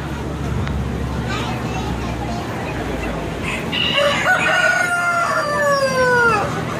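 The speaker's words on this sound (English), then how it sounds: "There's the big chicken, the big rooster." A rooster lets out a loud, drawn-out crow nearby, rising then trailing off, over a background of clucking hens and murmuring voices.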